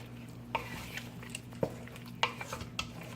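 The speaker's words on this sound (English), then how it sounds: "Stir it up a little bit more." A utensil scrapes and clinks against a pot of Jamaican curry chicken in a few scattered strokes, over a steady low hum.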